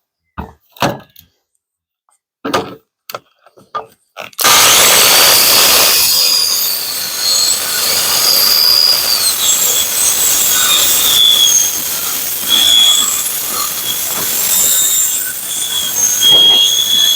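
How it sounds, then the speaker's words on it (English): A power saw with a 60-tooth blade cuts through plywood sheathing in one sustained, loud pass lasting about thirteen seconds, after a few sharp knocks and handling sounds at the start. "I'm using for all of this a 60-tooth blade to make a little bit smoother cut. Doesn't have to be super smooth for what I'm doing, but it still works a lot better on plywood"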